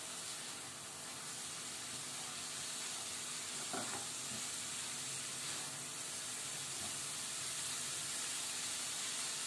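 Fenugreek leaves sauté in a pan over a raised gas flame, producing a continuous broad hiss of sizzling steam, fairly even throughout with a few faint stirring touches.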